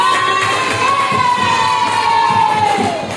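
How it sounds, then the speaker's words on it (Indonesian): Primary school pupils in a coding class cheering and shouting together, with a high sustained shout riding over rhythmic clapping, loud and close, fading slightly at the end. "Oke, semuanya, tepuk tangan buat kita semuanya."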